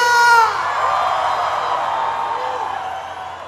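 A forró concert crowd in Caxias do Sul screams and cheers as a loud, sustained roar. A shouted voice sits briefly on top at the start before the crowd noise carries on and slowly fades.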